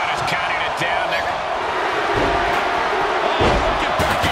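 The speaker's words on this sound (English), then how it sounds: "The crowd is counting it down." Arena crowd in the wrestling video game WWE 2K24 chanting a countdown during a guillotine submission, a loud, dense roar of voices with rhythmic swells and thumps beneath a commentator's talk.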